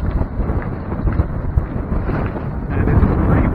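Strong wind at sea aboard a sailboat near a quarantine anchorage off Grenada, roaring and buffeting the microphone as a steady, loud, low rumble throughout, with no talking.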